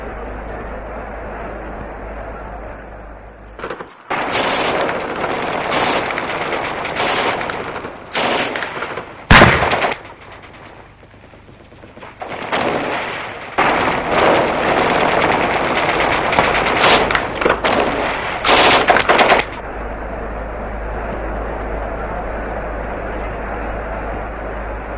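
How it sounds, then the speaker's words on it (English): Loud bursts of 9mm Uzi submachine gun fire, rapid automatic strings of shots repeated over several seconds with brief pauses, sharp and close over a steady background hum. "9mm Uzi submachine guns."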